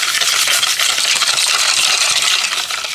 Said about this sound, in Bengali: আমের পাল্পের সাথে চিনিটাকে ভালো করে মিশিয়ে নেব